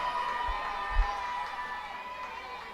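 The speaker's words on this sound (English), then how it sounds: "Crowd making some noise here." A minor league baseball crowd at an Altoona Curve versus Reading Fightin Phils game making noise, a distant, steady murmur of many voices with a brief swell of cheering, heard from across the stadium.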